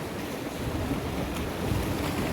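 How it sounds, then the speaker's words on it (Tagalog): Sea waves breaking at the Maragondon Sanctuary shoreline make a constant, dense roar, with wind noise rushing across the microphone throughout and no talking. "tabi ng dagat."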